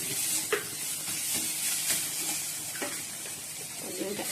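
Spice paste for Bengali egg curry frying and being stirred in a pan, a steady soft sizzle with occasional scraping strokes of the spoon, close and fairly quiet with no talk.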